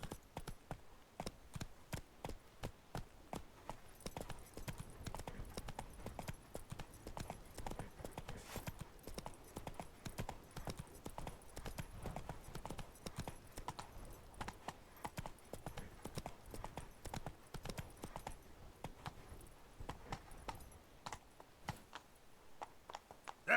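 Roach the horse gallops in The Witcher 3 with fast, steady, rhythmic hoof clip-clops, fairly quiet but continuous throughout and close by, without talking over them.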